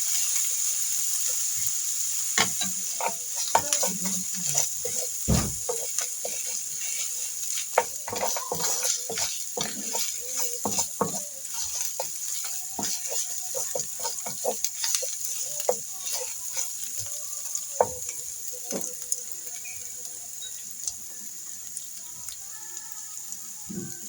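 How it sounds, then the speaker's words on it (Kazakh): Chutney sauce fries in a pan with a continuous soft sizzle dotted by sharp crackles and pops, fairly quiet and steady throughout. "Осылай қуырып аламыз."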